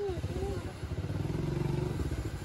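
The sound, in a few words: motorcycle nearby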